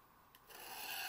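A woodworking chisel edge being deliberately dulled gives a brief, quiet scraping rasp that builds into a steady, harsh grinding rub of steel over about a second.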